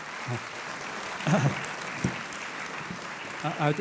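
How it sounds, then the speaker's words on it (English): Steady applause from a crowd fills the space, with voices talking briefly over the clapping. "I think round of applause."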